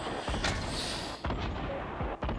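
A grenade explodes in Fortnite: Battle Royale, a dull booming blast among several thumping impacts and gunfire-like bursts spread over a couple of seconds, moderately loud with a muffled game mix.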